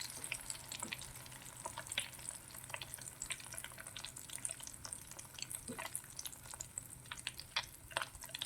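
Beef cutlets fry in hot oil with a dense, even sizzle and scattered small crackles that run steadily throughout at a modest level.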